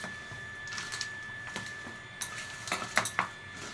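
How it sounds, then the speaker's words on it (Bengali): Mashed potato filling with a little chilli powder being mixed by hand in a bowl, a few soft squishes and light clinks spaced irregularly and close, over a faint steady hum, without speech. "এবার আমি এটা মেখে নেব।"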